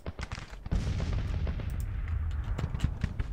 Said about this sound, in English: I think I hear small arms opening up